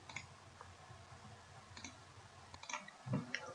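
A computer mouse clicks faintly a few times while Windows settings are adjusted, with sparse clicks over a low, quiet background hum and no speech.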